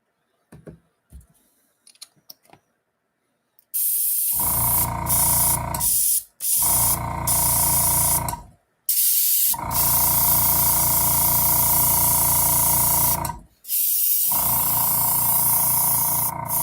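A sprayer puts out a mist of plain water in several long, loud hissing bursts with short pauses between them, after a few faint clicks and taps at the start.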